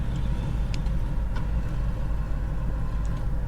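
A vehicle stuck in sand runs with a steady low engine drone under light throttle, close and continuous, with faint distant clicks and no talking.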